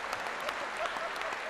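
An audience claps at an Uzbek concert, with steady, dense applause spread throughout, heard at a distance and fairly quiet.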